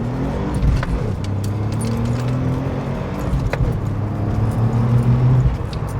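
Nissan Z32 300ZX running on high boost during a test drive, a steady close engine drone with shifting pitch as it accelerates and settles, no talking.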